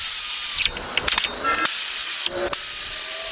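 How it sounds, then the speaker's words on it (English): A power tool snugs down the mounting bolts of an electric tongue jack, giving short, close whirring bursts separated by brief pauses. "let me go ahead and snug these bolts down"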